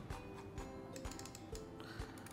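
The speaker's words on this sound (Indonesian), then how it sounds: "berikut adalah suara klik dari left click, right click untuk scroll wheel" A series of sharp, close plastic clicks from a gaming mouse's left, right and scroll-wheel buttons, about five or six, spaced at an uneven, unhurried pace over a faint background hiss.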